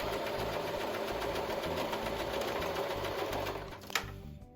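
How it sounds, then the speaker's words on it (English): A home sewing machine stitching fabric for a scrunchie: fast, steady mechanical hum and needle chatter running continuously, close and fairly quiet, ending with a brief click. "My sewing machine has been acting up,"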